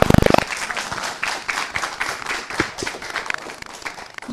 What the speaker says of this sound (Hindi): ये तालियां हमें बता रही है कि रचना कितनी शानदार थी